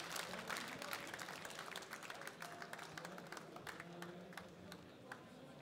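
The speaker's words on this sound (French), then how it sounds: "on peut les applaudir bien fort" An audience applauds at a fishing championship prize ceremony, a steady patter of many hands clapping at moderate distance, fairly faint and sustained throughout the whole stretch, with a slight murmur of crowd underneath.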